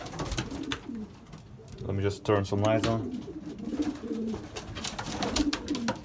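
Racing pigeons coo steadily inside a loft, soft throaty calls layered close by, while someone speaks briefly over them.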